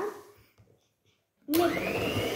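An electric hand mixer starts up loudly and runs steadily, whirring as it beats cupcake batter in a bowl after a few quiet moments and faint speech.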